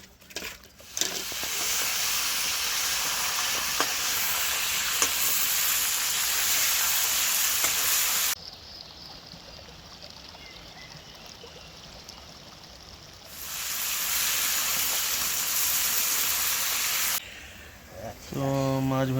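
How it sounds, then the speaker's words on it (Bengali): Fish curry with potatoes boils in a pot at a rainy-season campsite in Sikkim, giving a loud hissing, bubbling roar that drops away for a few seconds and then returns. No speech is heard. "এইদিকে আলু দিয়ে মাছের ঝোল ঝোল ফুটছে"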